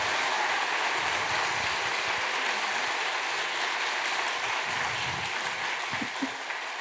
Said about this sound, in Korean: 피아니스트 김규태 교수님께도 큰 박수 부탁드립니다.